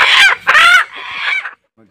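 A chicken clucks and squawks in a few loud, close bursts, then falls quiet.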